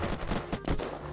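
Gunfire in the survival shooter Unturned, a dense burst of overlapping shots and rapid automatic fire filling the whole second, loud and close, with no talking over it.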